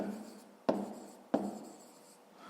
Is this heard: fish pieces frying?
no